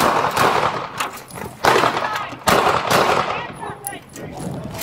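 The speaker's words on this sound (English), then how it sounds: "Gunfire in the alley." Rapid bursts of gunfire crack out in several loud volleys, sharp broadband blasts repeating over a few seconds, with a faint voice in the background.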